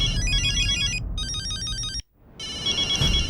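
A mobile phone plays a bright, repeating electronic ringtone melody in looped bursts, with a brief dropout before it resumes loud and close.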